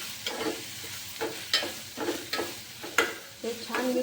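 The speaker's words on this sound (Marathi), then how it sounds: "आपण आता छान असं मिक्स करून घेऊया।" Pasta being stirred with a packet of Maggi masala in a pan, a spoon scraping in a steady series of distinct strokes over a faint sizzle.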